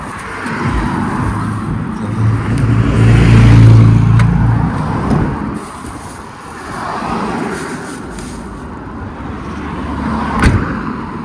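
A car rumbles steadily nearby, swelling louder as it seems to accelerate, with road noise and a sharp click near the end.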